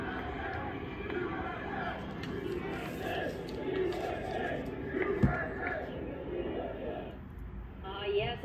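A large crowd at the Formula One Miami Grand Prix roars and shouts in welcome for former president Trump. The din is dense and steady throughout, with a sharp bang about two-thirds of the way in.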